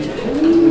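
A pigeon gives a single close, loud, rising coo, a low throaty tone that steadies and holds for about half a second with no talk over it.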